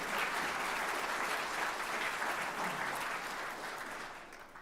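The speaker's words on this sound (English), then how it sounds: "So a round of applause for my Connecticut family." Applause from an inauguration ceremony crowd fills the room in a dense steady wash, then begins fading toward the end.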